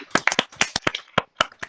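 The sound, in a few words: applause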